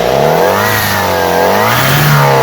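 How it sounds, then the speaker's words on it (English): A car engine revs hard during a mobile repair job, heard up close from underneath the vehicle, its pitch climbing and sweeping in a continuous loud roar. "Rev it up."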